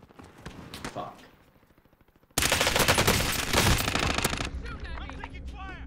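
Automatic gunfire in the Warzone video game, with a loud, dense burst of rapid shots filling the second half after quieter intermittent shots, while players talk over the action.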